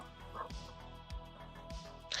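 A dog whimpers and gives soft yips while being rubbed indoors, a few short whiny bursts repeating over a steady background hum, fairly faint and close.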